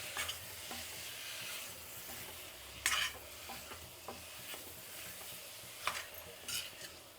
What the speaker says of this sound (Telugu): చికెన్ వేసిన తర్వాత 2 నిమిషాలు వేయించుకోవాలండి.